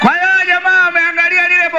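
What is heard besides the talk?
No distinct noise like a dog, phone or traffic.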